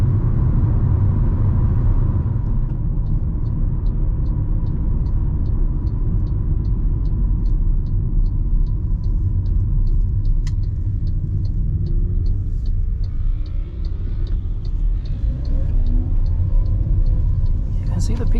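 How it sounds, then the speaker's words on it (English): MG ZS car engine accelerating from 80 to 100 km/h, heard from inside as a steady low rumble with road noise that rises gradually, with a faint repeating ticking over it. "So I'm going to just push the vehicle from 80 to 100."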